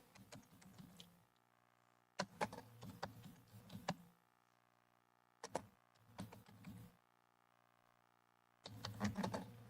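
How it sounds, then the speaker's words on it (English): Bursts of rapid mechanical keyboard clicking in several separate runs, separated by brief pauses, with a steady low hum underneath. "Clickety clack, clickety clack, clickety clack. Oh yeah, keyboard sounds my favorite."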